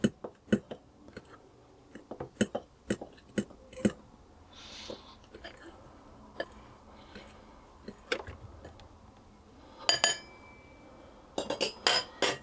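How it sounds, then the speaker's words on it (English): Fork stirring baking powder into flour in a bowl, producing light scattered clinks and taps against the dish, faint and intermittent with soft breathy sounds between. "I'm simply going to mix that around with a fork just to get that distributed into the flour a little bit"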